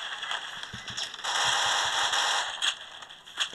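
Rapid gunfire in the Roblox game Edward the Man-Eating Train, a burst of sharp cracking shots in quick succession, fairly loud with a few scattered pops after.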